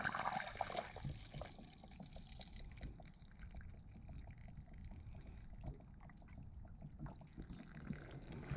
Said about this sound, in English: you'll hear it kind of gurgle